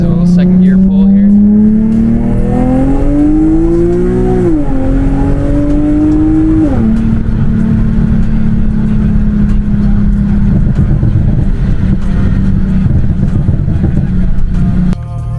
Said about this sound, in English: give you guys a little second gear pull here